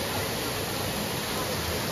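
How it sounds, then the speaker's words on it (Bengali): A large waterfall gives off a dense, steady roar of rushing water, loud and unbroken for the whole moment, with no voices on top. "আর এখানে এই সেই বড় ঝর্ণাটা।"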